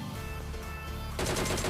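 Automatic gunfire rattles in the mobile battle royale game PUBG Mobile, a loud rapid burst that intensifies toward the end.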